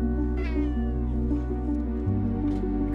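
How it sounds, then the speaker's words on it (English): A cat meows repeatedly in a video game trailer, several close, clear meows over a steady tonal music bed, with no talking. "Oh my god, it's a cat."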